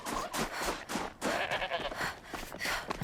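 Goat bleats in the video game Horizon Zero Dawn: The Frozen Wilds, several short nasal calls in quick succession over a steady game ambience, fairly close and clear with no talk.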